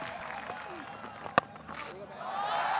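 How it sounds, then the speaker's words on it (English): Cricket crowd at a Pakistan vs Sri Lanka one-day international cheering a six: a steady, dense roar from a large stadium audience, with one sharp click midway and the noise swelling louder toward the end. "It's been a while since the crowd had a boundary to cheer for"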